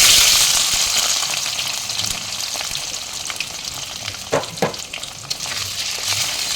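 Potato pieces fry in hot oil with cumin, dried red chillies and bay leaf, giving a loud, dense, continuous hiss that eases slightly, with a few stirring scrapes near the end.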